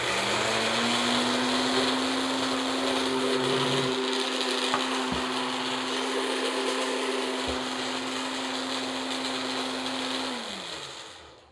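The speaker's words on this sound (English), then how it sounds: "So we're going to blend up the broccoli just to make sure it is fully blended" A kitchen blender purees broccoli in a loud, steady whir lasting about ten seconds. The motor hums at a constant pitch, a brief clunk sounds midway, and it winds down quickly at the end.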